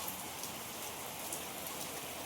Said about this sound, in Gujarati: હવે આયા વરસાદ ચાલુ થઈ ગયો છે.